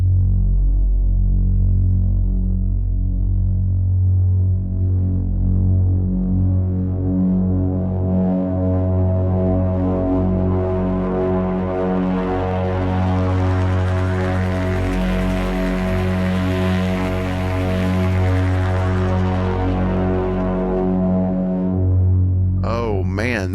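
The Machine Burner preset from Sonuscore Dark Horizon plays a loud, dark throbbing drone with deep humming tones. A gritty upper layer swells midway and fades, ending in a brief sharp flutter.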